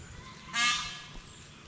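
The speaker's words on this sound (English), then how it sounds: "Honking." A peahen honks once in a forest, a single loud, harsh call rising briefly out of quiet background noise before fading, with a faint knock afterward.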